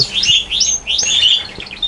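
Finches feeding at egg food give bright, rapid chirps and tweets in quick overlapping bursts, close and fairly loud, with no voices.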